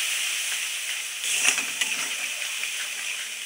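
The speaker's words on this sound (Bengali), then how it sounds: "মশলাটা এমনভাবে কষাতে হবে যাতে মশলায় তেল ছেড়ে দেয়।" Spice paste with chili powder and water frying in a pan gives off a steady, loud steamy hiss, with brief sizzling spurts partway through, with no voices.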